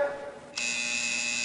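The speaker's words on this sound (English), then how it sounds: "Push the goddamn buzzer, will you?" A door buzzer from the 1992 film Sneakers sounds as a short, steady electric buzz that switches on abruptly and holds, fairly faint, with no talk over it.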